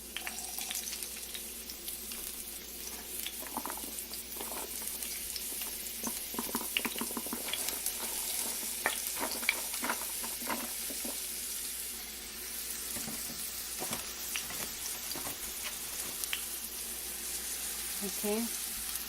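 Onions frying in a pan over medium-low heat, a steady broadband sizzle with scattered crackles and occasional faint clinks, continuous and fairly close throughout.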